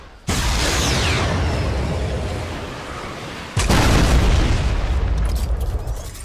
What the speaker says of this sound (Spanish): yo soy la que está lanzando cohetes